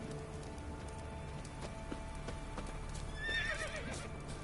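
Roach, a horse in The Witcher 3, snorts and gives a short whinny near the end, over soft steady hoof clops and faint rain in the game.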